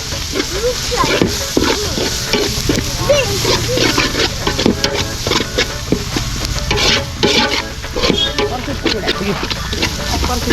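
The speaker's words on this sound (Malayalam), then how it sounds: "നല്ല രീതിയിൽ നമ്മളിങ്ങനെ ഇളക്കി കൊടുക്കുന്നുണ്ട്" Masala for a Bellary-style buffalo rib curry is stirred in a sizzling pan, with loud, close, continuous scraping strokes and frying hiss beneath a person talking.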